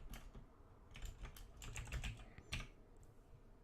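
Keys clatter on a computer keyboard as a Linux command is typed, a quick irregular run of close, crisp clicks with short pauses between bursts.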